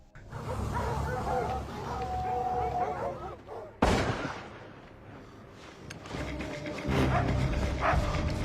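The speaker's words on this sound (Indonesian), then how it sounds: "tiba-tiba anjing menggonggong disertai suara ledakan senjata" A dog barks amid a loud gunshot crack in a snowy survival setting, with several sharp bursts and barks mixed over a continuous rumble of background sound.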